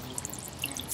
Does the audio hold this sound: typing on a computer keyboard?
no